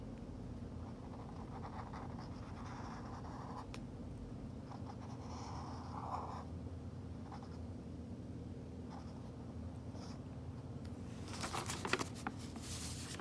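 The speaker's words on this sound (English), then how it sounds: "on my piece of paper, I'm going to draw an apple." Quiet, soft scratching strokes on paper as an apple is drawn, faint and irregular against a low background hum.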